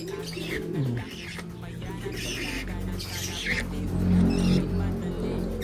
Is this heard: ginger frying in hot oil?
no